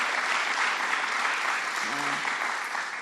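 A crowd applauds steadily at a New York Governor's event, a dense wash of clapping filling the room, with a brief voice sounding in the middle.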